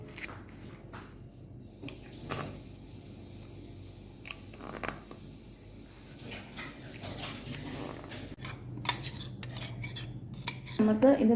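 A spoon stirs mango ice cream mixture in a bowl, making irregular clinks and scrapes against the container, with some louder knocks toward the end and no speech.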